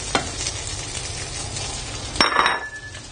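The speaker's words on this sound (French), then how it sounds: "on va faire revenir très rapidement les crevettes dans de l'huile d'olive" Shrimp hitting a very hot pan of olive oil give a steady hiss, with a sharp clink and a louder burst of crackling near the end as they are tossed.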